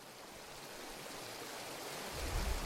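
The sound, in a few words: creek water flowing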